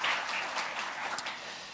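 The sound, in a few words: congregation applause in church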